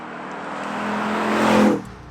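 A 2019 Ford Mustang Bullitt V8 with a manual transmission drives on the road, its engine rising in a swelling rev and roar for a couple of seconds before easing off sharply, close and loud, with no talking.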